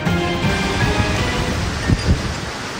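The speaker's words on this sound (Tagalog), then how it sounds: "halos mag-zero visibility sa pinagsamang buhos ng ulan, mayat-mayang pagkidlat at bugso ng hangin" Heavy rain pours steadily during a storm in Dubai, a dense continuous roar with gusting wind and low rumbles beneath.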